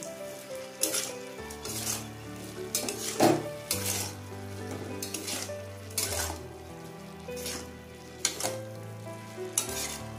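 Spices and slit green chillies sauté in mustard oil for a bottle gourd and prawn curry, a close, steady sizzle with frequent stirring scrapes and clinks of a spoon on the pan.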